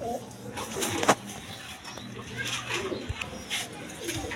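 Pigeons coo softly at a pigeon market amid general background noise and other birds, the low calls repeating under the ambient din.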